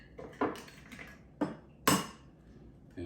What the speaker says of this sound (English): crack these eggs, and I'm just gonna beat these up nice and good so they could turn